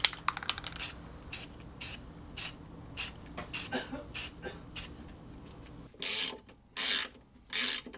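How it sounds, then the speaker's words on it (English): Short hissing bursts of black spray paint coat small hinges, with quiet clicks and handling noises between them, then three longer, louder sprays near the end. "I'm just gonna spray them black so that it matches the piano hinge"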